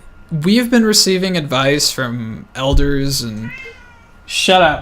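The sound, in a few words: domestic cat meowing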